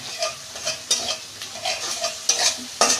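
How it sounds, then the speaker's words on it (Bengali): Spices with ginger, cumin, coriander, pepper and green chili fried in oil in a pan for a vegetable fish curry, a soft steady sizzle broken by several sharp scraping stirs of a spatula, close and alone. "এইটা আমি একটু কষে নেব।"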